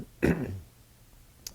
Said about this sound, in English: excuse me, microphone cough on the side